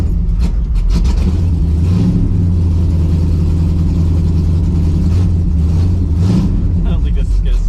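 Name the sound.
1973 AMC Javelin AMX engine starting and running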